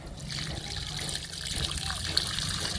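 Liquid fertilizer poured steadily onto a potted plant, a continuous close trickle and splash of liquid lasting throughout, with a faint voice underneath.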